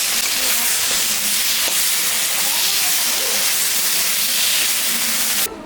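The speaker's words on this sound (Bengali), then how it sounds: "এখন আমি একটু জল দিই।" Water poured into a pan of frying spice masala for a pomfret fish curry sets off a loud, continuous hissing sizzle that holds steady and then cuts off abruptly.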